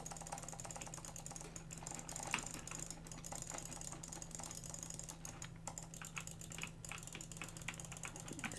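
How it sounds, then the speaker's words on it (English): A computer mouse jitter-clicked rapidly during Minecraft play: a fast, continuous rattle of close, crisp clicks over a steady low hum, with no talking. "gotta jitter click this crap."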